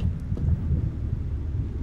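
Thunder in the video game Indicted, a low continuous rumble that rolls steadily through the whole stretch with a slightly stronger swell near the start, heard alone without any talk.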